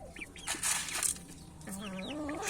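Chickens cluck and squawk close by, a few sharp calls followed by a drawn-out warbling cackle.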